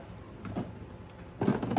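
A drawer of a dish drainer slides open and closed, giving two short, soft plastic scraping and clunking movements close by in a quiet room.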